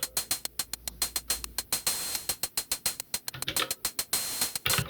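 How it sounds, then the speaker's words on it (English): A rapid, rhythmic pattern of crisp hi-hat ticks synthesized on a Digitone repeats steadily, each hit short and bright, with a few longer open hits mixed in. "Let's turn this one into a hi-hat or an open hat."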